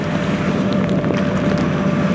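Steady wind roaring across the microphone, with a constant low rumble and broadband noise throughout, no voices.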